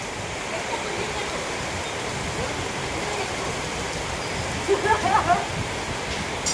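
Steady rain pours down while rainwater is collected, a dense continuous wash of falling water with a brief faint voice partway through.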